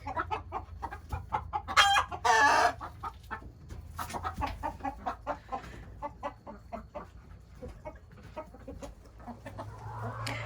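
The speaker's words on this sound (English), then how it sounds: "these chickens are sitting in the nesting box, getting ready to lay an egg." Chickens sitting in a nesting box on a ranch cluck and squawk in irregular bursts, close and fairly loud, with one louder raucous outburst early on.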